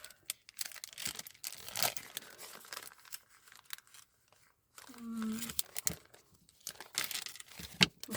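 Paper ephemera being cut with scissors, giving quiet crinkling, snipping and tearing sounds in short bursts, close and soft, with a person murmuring in between.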